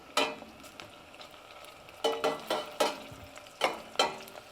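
Homemade meatballs frying in hot oil get a quick stir: several scraping, clattering strokes against the pan over a low sizzle, close and fairly quiet.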